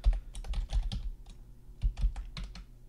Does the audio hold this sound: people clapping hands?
no